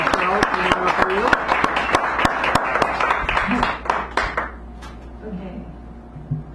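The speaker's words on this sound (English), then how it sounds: "Michelle, nice round of applause for Michelle." Audience applause for Michelle at a café poetry hour, a small group's sharp separate claps, loud at first and then thinning out and fading while voices murmur in the room.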